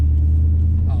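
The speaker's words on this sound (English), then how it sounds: "the amount of engine noise you hear inside of this cab" A cammed Chevrolet Silverado with dual exhaust and Venom 250 mufflers idles or cruises, heard from inside the cab as a constant deep, heavy drone, with a voice faintly present over it.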